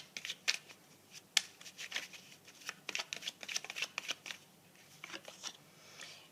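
Tarot cards are shuffled close up, a rapid run of crisp papery riffles and flicks that patter irregularly for several seconds, fairly quiet and with no voice over them.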